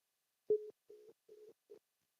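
Telephone line tones on a live call-in podcast sound as four short electronic beeps in quick succession, clean and isolated with no talk.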